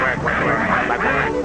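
Cartoon ducks quack in a loud, dense, nasal chatter with many overlapping calls in quick succession, heard close for a short moment.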